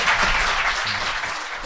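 Studio audience applause for a guest on a Korean talk show, a short burst of steady clapping from a small live crowd with a low murmur underneath.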